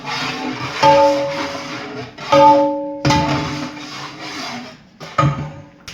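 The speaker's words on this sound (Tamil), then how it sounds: "முட்டையை சேர்த்து நல்லா கிண்டி விடுறோம்." Egg being stirred into chicken kothu parotta on a wood-fired stove in a restaurant kitchen for a large batch, with scraping and rasping strokes of a utensil against the pan in uneven bursts.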